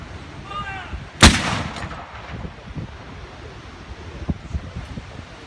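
An artillery gun fires a single loud, sharp blast at a military show, followed by a rolling echo and decay over open ground with wind noise, a fainter thump following a few seconds later.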